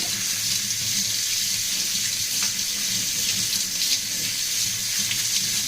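Rice being rinsed in a pot under a running kitchen tap, a continuous close hiss and splash of flowing water with a faint sloshing undertone, no voices.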